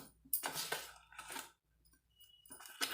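Puffed rice being stirred into a sweet mixture in a pot, giving a few bursts of scraping and clinking at close range with a quiet gap in the middle.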